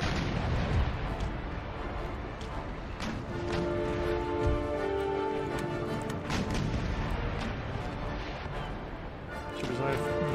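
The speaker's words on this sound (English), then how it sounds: "fire that broadside just to make sure I don't do any damage" Broadside cannon fire from sailing warships in the video game Empire Total War, a rumbling series of deep booms and crackling shots rolling on steadily under talk.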